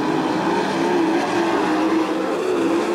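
Sprint cars race in a dirt track heat, a dense, loud, continuous engine roar from the pack with no gaps.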